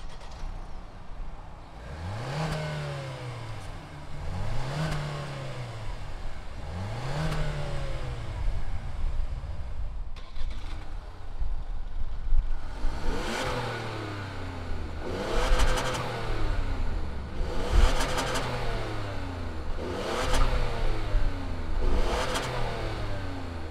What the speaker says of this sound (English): we're gonna get behind these, fire them up, and see what they sound like